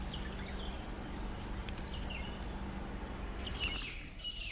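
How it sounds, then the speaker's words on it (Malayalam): Birds chirp and tweet in short bursts over a steady outdoor background in a date-palm oasis at Al Ain, growing busier and brighter toward the end. "നല്ല കിളികളുടെ ശബ്ദമൊക്കെ കേൾക്കാം ഇവിടെ"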